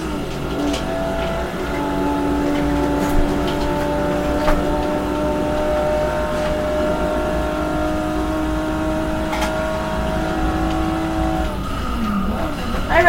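A Maserati races around a circuit, its engine holding a steady loud drone with tire squeal and skidding mixed in, continuous for the whole stretch and swelling at the very end.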